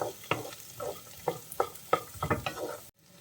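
Onions and coconut pieces sautéing in a pan for Kerala-style beef ularthiyathu, with repeated scraping stirs in an uneven rhythm over a soft sizzle, ending abruptly.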